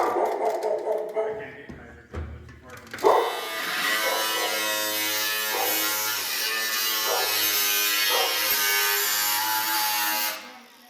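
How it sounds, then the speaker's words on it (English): A hole saw grinds steadily through two layers of a 1972 Plymouth Duster's body panel and subframe, a loud continuous whine with periodic pitch dips after brief voices and clanks at the start. "Easy with the hole saw. We're cutting through two layers with the body and then the frame, the subframe."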